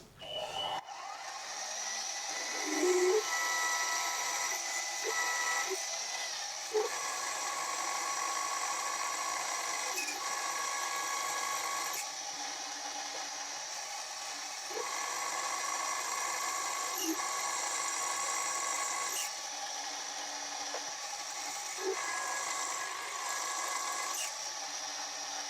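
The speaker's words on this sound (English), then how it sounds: "Start off with a 5mm pilot drill." A 5mm pilot drill bores through a metal casting with a steady high-pitched whine running continuously for the whole stretch, with brief dips and changes in pitch as the bit cuts.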